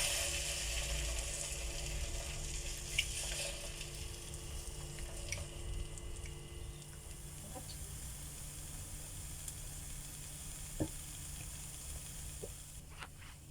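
Methi and potato pancakes toast in a pan with a soft, steady sizzle, quiet and close, broken by a couple of faint clicks.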